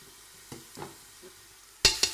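Cumin seeds hit hot desi ghee with browned onions in a pressure cooker, giving a few soft stirring clunks and then a sudden bright sizzle that bursts up loudly and fades in two quick waves.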